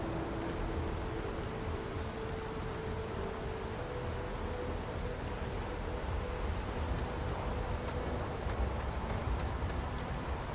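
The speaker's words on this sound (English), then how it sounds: "Looks like a storm's rolling in." Steady rain from an incoming storm in Starfield falls as a continuous, even hiss of drops, with a faint low rumble underneath and no voices.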